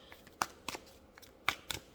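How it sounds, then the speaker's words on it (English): Oracle cards being shuffled by hand, a few quiet, crisp papery snaps and riffles spaced irregularly over a faint background. "to shuffle the cards in front of you"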